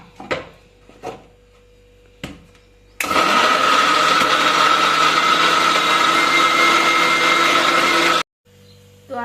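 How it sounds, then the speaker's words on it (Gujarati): Mixer grinder blending red chutney for masala dosa, a loud sustained whirring drone for about five seconds after a few short knocks, then cutting off abruptly. "મિક્સરમાં પીસી લેવાની છે."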